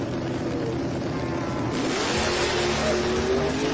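Drag racing launch at a strip, a 1969 Valiant and a 1969 Chevelle leaving the line: a loud engine roar surges sharply upward midway, a dense revving blast that stays strong to the end.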